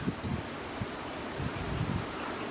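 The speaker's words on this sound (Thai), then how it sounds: "ฝนตกคุณผู้ชม ลมแรงมาก" Heavy wind rushes steadily in a rainstorm, with gusts buffeting the microphone and a broad hiss like rain or leaves thrashing throughout.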